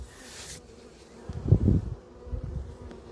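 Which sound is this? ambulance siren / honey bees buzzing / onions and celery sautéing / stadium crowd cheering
honey bees buzzing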